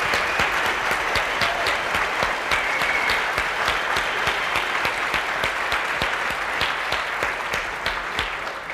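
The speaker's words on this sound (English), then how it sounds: "I would like us all to give a round of applause to the organizers and all the other volunteers" A conference audience at FOSDEM 2009 gives the organizers and volunteers a sustained round of applause, dense clapping from a large crowd that fills the room at close range and tapers slightly toward the end.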